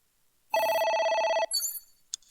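A telephone rings in the video game AI: The Somnium Files, giving one loud, steady electronic ring burst that cuts off sharply and is followed by brief chiming game interface tones, with no talking.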